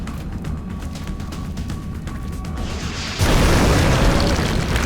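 An explosion in the PC strategy game XCOM: Enemy Within sets off a loud, dense roaring blast that swells suddenly after a low rumbling buildup and keeps booming steadily to the end.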